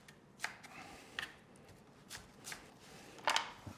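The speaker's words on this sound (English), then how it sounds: "cut the lettuce in half, and again get it onto a nice flat surface, and we're just going to thinly slice" A knife thinly slices halved little gem lettuce on a flat chopping surface, giving sparse, quiet crisp cuts at irregular intervals.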